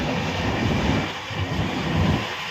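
Train pulling into Khurai junction station, a steady low rumbling roar with broadband wheel and carriage noise that swells and eases, heard alone without talk.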